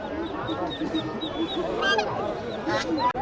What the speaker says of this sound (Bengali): এই দিকটাতে আরেকটা রাজহাঁস পাইছি